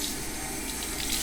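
Warm water runs steadily from a bathroom tap into a sink, a continuous close hiss and splash with no pauses.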